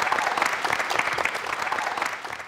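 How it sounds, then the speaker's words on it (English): An audience breaks into a short burst of brisk, continuous applause from many hands, steady and fairly close throughout. "Give him a round of applause."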